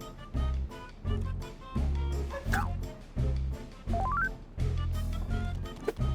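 A dog barks again and again close by in an even rhythm of short woofs, with a few higher yips and whimpers mixed in, while someone talks over it.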